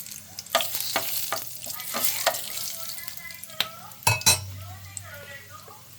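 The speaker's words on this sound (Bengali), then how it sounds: "তাতে একটা দারচিনি, লং, এলাচ দিয়ে দিলাম তেলের উপরে" Cinnamon, cloves, cardamom and a bay leaf crackle in hot oil in a kadai for Kolkata-style mutton biryani, with a soft sizzle broken by sharp metallic clinks and stirring taps from a utensil.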